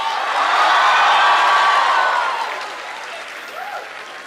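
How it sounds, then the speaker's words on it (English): A university lecture audience at Christ University, Bengaluru, gives a loud burst of clapping that peaks early, then fades to a softer patter over a few seconds. "A huge round of applause to you guys on behalf of our classmates."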